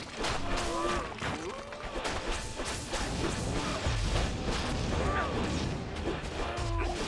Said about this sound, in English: Sacrifice, corpse explosions.